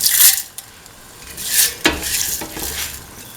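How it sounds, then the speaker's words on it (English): Mung beans tossed into a hot pan for a coconut milk and ivy gourd dish, giving a soft sizzle with scraping stirs of a utensil against the pan, close and alone. "Now put in the mung beans,"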